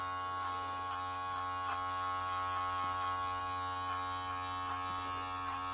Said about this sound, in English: see if we can still hear the hair clippers cutting any of the hair